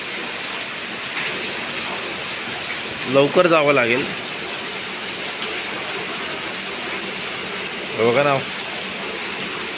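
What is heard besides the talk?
heavy rain falling in Konkan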